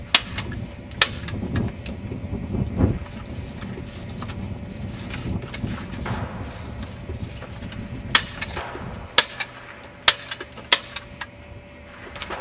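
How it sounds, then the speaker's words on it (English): A staple gun driving staples into paper targets at an outdoor rifle and pistol range, several sharp, close clacks spaced a second or two apart over wind noise and handling sounds. "I'm going to use a staple gun."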